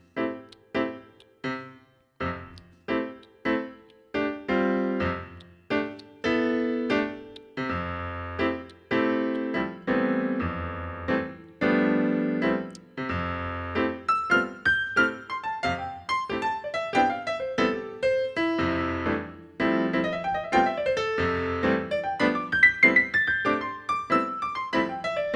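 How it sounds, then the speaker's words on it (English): Solo piano plays blues reharmonisation at a medium up-swing tempo, with crisp, evenly spaced chords and lines in a steady swinging rhythm that grows busier and more textured toward the end. "if I were playing a medium upswing tempo that wasn't a ballad, it would probably sound like this"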